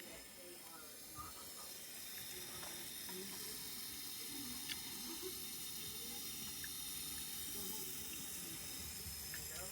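Water runs steadily from a kitchen sink faucet, a constant close hiss that lasts the whole stretch with only faint rumbling underneath.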